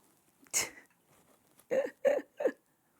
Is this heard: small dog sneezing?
yes